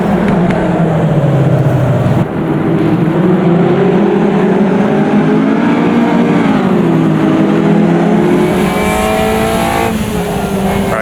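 A Caterham race car circling Cadwell Park in the Automobilista 2 sim, its engine loud and continuous, pitch climbing and falling through upshifts and downshifts, with one abrupt gear change early on.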